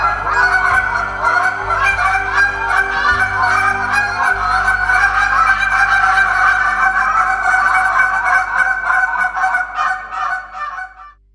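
Team goose calling at a championship warm-up, several callers imitating goose honks with handheld calls in a dense, continuous chorus of rapid, loud honks and clucks that fades at the end.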